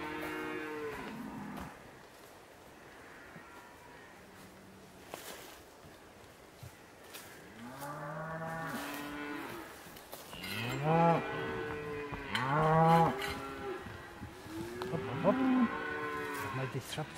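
A young bull and other cattle moo outdoors in a series of drawn-out calls, some faint and distant, others louder and overlapping later on.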